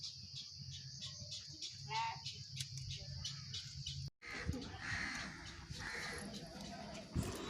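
Bulbul birds chirping at a nest with tiny chicks, with scattered short calls over a steady background hum and a camera handling thump midway.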